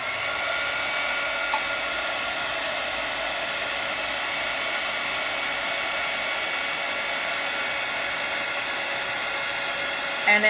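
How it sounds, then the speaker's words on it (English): A heat embossing tool blows hot air over powder on paper, giving a steady, close whooshing hum with no talk. "And then I move my heat embossing tool as I see the color change, as I see the powder melt."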